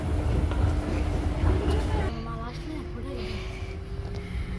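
A train arriving at a station in Switzerland rumbles heavily, then its roar drops as it slows, with screeching brakes and metallic clatter carrying on steadily afterward.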